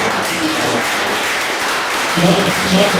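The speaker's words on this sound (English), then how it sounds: "Please, guys, round of applause for those." Audience at a school panel discussion clapping, a loose steady patter of many hands with voices talking over it near the end.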